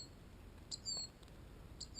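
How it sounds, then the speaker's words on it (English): Wild birds call outdoors with a few thin, high chirps spaced apart, faint and distant over a steady background hiss. "Here's the birds."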